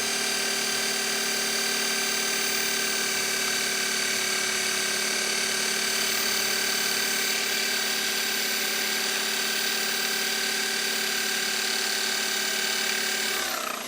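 A homemade electric flour mill motor runs steadily while grinding grain into flour, a loud continuous whine with strong steady tones, unbroken for the full length and stopping abruptly at the very end.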